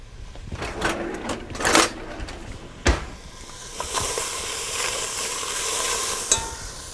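Onions cooking in a dry pan with no oil or broth, a soft crackling sizzle broken by sharp scrapes and knocks of stirring, close and fairly quiet.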